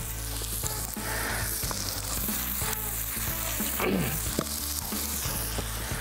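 Wild boar fillet fries loudly in a pan set over glowing embers on a farm, a dense, close, continuous sizzle with scattered pops and scrapes of stirring throughout.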